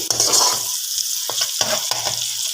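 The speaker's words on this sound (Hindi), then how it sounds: "इन सबको आपने फ्राई, बिल्कुल ब्राउन फ्राई नहीं करना है" Vegetables and carrots frying in a pan for chicken macaroni, a loud sizzle broken by stirring scrapes and clinks of a utensil.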